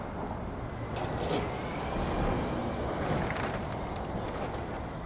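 Steady city street traffic on a Toronto avenue: a continuous broadband rumble of passing cars and heavier vehicles, with a brief faint high squeal, filling the whole stretch at moderate distance.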